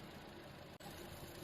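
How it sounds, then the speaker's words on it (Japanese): A car engine idles steadily with its air conditioning compressor running, a constant mid-low hum that holds through the whole moment apart from one very brief dropout. "コンプレッサーの音もそんなにうるさいわけでもないと思うんですよね。"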